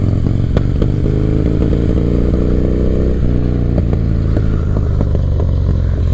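A 1985 Harley-Davidson FXR rumbles steadily while being ridden, its loud, close V-twin exhaust holding a constant low drone with a brief shift in pitch partway through and no voices.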